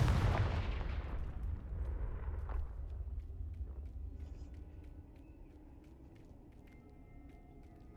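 A Confringo blasting spell explodes in Hogwarts Legacy, a heavy rumbling boom at the start that rolls and fades slowly over several seconds into a quiet low drone.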